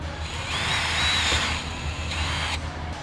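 A power drill with a 6.5mm bit bores into a car's side skirt on a Kia Cerato GT sedan, a steady whirring whine rising and holding before cutting off, close and alone.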